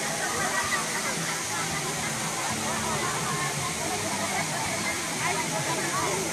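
Steady broadband rush of the waterfall at LOHAS Park, Hong Kong, filling the whole clip at constant loudness, with faint crowd voices mixed under the roar.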